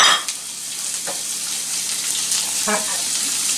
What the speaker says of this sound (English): I'm going to add my yellow peppers.